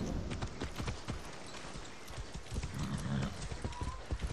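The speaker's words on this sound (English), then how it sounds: "Get on the mountain horse." Rapid hoofbeats of a mountain horse in the video game Far Cry 6 clatter in a steady galloping rhythm, fairly faint and continuous, with no talking over them.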